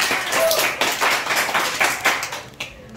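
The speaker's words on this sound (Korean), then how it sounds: "박수가 있어야죠?" An audience at a village puppet theatre show in a Korean picture-book village gives a round of hand clapping: a fairly loud, uneven patter of claps that thins out toward the end, with no speech over it.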